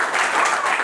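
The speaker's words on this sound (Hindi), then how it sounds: "इसके लिए जोरदार ताली हो जाएगा।" Classmates in a Class 10 physics lesson give a student a hearty round of applause, a short, loud, even burst of many hands clapping together.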